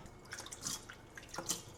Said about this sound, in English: Let's put water in it.